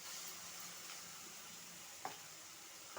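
Sliced onions and ginger garlic paste frying in a pan, a faint, even sizzle with a couple of brief stirring clicks, no voices.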